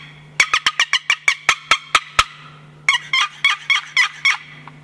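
A hand-held turkey call imitates a hen's cutting: a loud, close series of sharp, rapid clucks, about ten evenly spaced, then a short pause and a second run of slightly smeared clucks, over a low steady hum.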